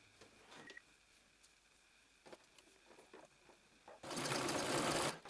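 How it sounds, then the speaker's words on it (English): A sewing machine zigzag stitches back and forth to join the two raw ends of a garment's elastic, a loud steady whir lasting about a second near the end after quiet handling taps. "I'm going to zigzag stitch back and forth across this to connect the 2 raw ends of my elastic."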